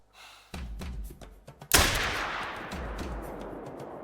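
A rifle shot in the hunting game theHunter: Call of the Wild on the Vurhonga Savanna, a single loud close blast with a long rolling echo, preceded by soft handling clicks.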